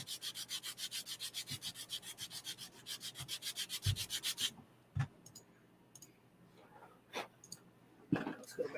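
Sandpaper on a workpiece gives rapid, rhythmic back-and-forth rubbing strokes for about four seconds, then stops, leaving scattered faint clicks and handling noises.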